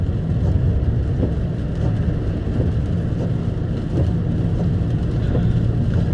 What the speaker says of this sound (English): I am just trying to pay attention to the traffic because it is raining